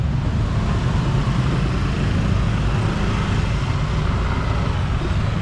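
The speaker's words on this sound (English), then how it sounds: "when you're hearing all this traffic" Dense road traffic in Bali, a constant loud roar of cars, trucks and motorbikes passing nearby with no let-up and no talk.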